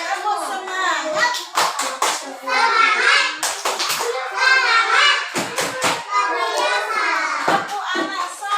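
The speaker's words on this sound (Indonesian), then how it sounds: "Yuk kita tepuk semangat dulu." Children performing tepuk semangat, a rhythmic clapping chant in which sharp bursts of claps punctuate loud chanted young voices in a repeating pattern.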